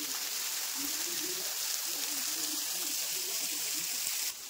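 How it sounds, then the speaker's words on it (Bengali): Waterfall at Cherrapunji, Meghalaya, water pouring from above onto rocks, heard as a steady, soft rushing hiss from a distance with no break and no talk. "ওই ওপর থেকে জলটা এই পাথরের উপর এসে পড়ছে"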